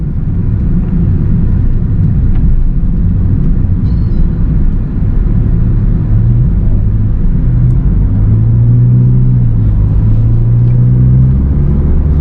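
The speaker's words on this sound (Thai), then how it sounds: "อันนี้คือการใช้งานจริงนะครับ ตามท้องถนนทั่วไป ไม่ไปหนวกหูใครนะครับ เสียงกำลังดีนุ่มแน่น" A Honda Jazz GK fitted with an AZC titanium exhaust tip cruises along an ordinary road, a steady, fairly loud low rumble of engine and road noise that holds without letup throughout.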